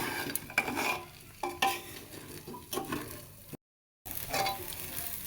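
Rice, potato, pumpkin, lentils and spices get sautéed in a pan, with close scraping stirs and soft sizzling in irregular strokes, then a brief dead silence before the stirring picks up again.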